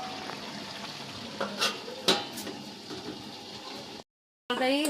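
A vegetarian vegetable curry, sweetened with a little sugar, is gently stirred in a pan with soft sizzling and a few scraping strokes, then a short silence before a lid clatters.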